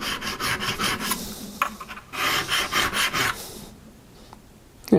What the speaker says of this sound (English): I'm just going to do that until I feel a burr